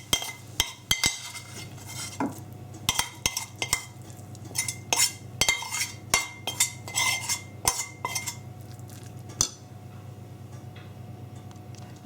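Cooked food scraped and spooned into a second bowl after the gas is turned off, with repeated sharp metallic clinks of utensils against dishes in an irregular rhythm over a low steady hum, close and fairly loud.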